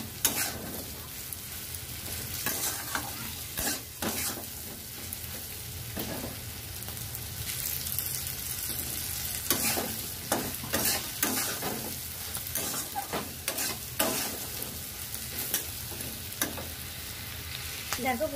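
Vegetables and spices, including ginger and cumin, are sautéed in a pan for a Bengali katla fish and taro curry, with a continuous sizzle broken by repeated scraping stirs of the spatula and no talking.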